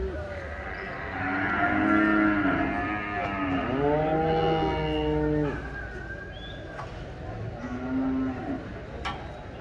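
Cattle, including a heifer, low repeatedly at a livestock market in Santa Elena, Usulután, El Salvador, long drawn-out moos close by overlapping one another, with crowd chatter and voices in the background.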